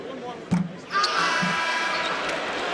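Basketball arena crowd at a Purdue–Michigan college game cheering a defender's effort, a broad sustained roar rising after a ball bounce and holding steady, with an announcer talking over it.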